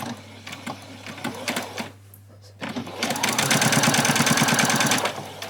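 A domestic sewing machine back stitching an apron seam. A fast, loud, steady needle rattle comes in short runs, the longest at the end, with a brief pause between.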